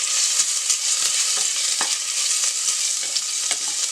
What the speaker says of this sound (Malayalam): നീളത്തിൽ അരിഞ്ഞ് നമുക്ക് എണ്ണയിലേക്ക് ഇട്ട് കൊടുക്കാം.